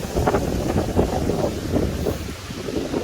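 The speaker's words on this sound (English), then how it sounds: "Excuse the wind, it's very windy here." Strong outdoor wind buffets the microphone in a steady low roar with gusty swells, heard while a Honda Civic Sport Hatchback hood is being wrapped; no talking.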